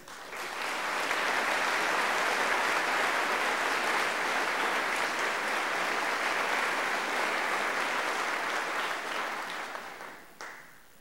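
A Honesdale High School graduation ceremony audience applauds for award winners, a dense, sustained wash of clapping that holds steady for about nine seconds before tapering off, with no talk over it.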